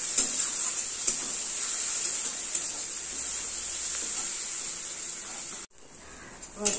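A spice paste of ground coriander, cumin and turmeric mixed with water fries in a pan for a fish kalia, giving a steady, bright sizzle that runs for several seconds before dropping away suddenly near the end.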